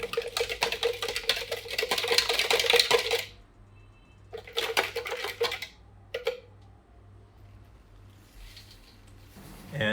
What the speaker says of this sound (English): and I will add to that 50 grams of sugar. Quickly stir those together.